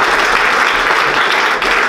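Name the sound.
audience applause for security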